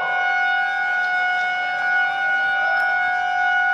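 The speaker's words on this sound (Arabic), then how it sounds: "تم تشغيل سارينة الإنذار للهدف" An alarm siren sounds at a facility during an emergency drill. It holds a steady, loud, unbroken tone with no rise or fall for the whole stretch.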